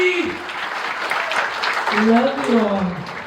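Audience clapping at a children's birthday party, a dense patter of applause running throughout, close, with voices and talk rising over it toward the end.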